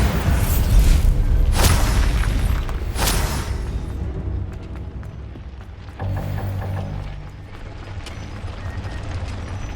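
Bombarda blasting spell in Hogwarts Legacy, a series of heavy booming bursts with crackling debris, strongest early, followed by rumbling mechanical combat noise.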